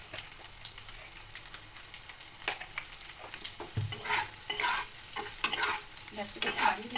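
Potatoes frying in white oil in a pan for Bengali aloo makha, stirred with a utensil; a steady close sizzle runs throughout, with scraping stirs growing busier in the second half and no talking.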